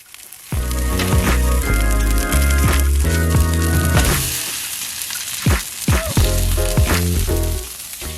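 A ribeye steak sears on a Blackstone griddle beside garlic and herb butter, giving a steady, close sizzle that runs beneath prominent background music, with a few sharper spits and clatters along the way.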